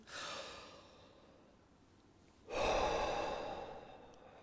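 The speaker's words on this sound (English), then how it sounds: "let's take a big breath in together. We're just going to take a big inhale in and blow out like that" A deep inhale followed by a strong exhale, done as a breathing exercise for trumpet warm-up; a soft airy intake is followed after a pause by a loud, close, sustained rush of breath.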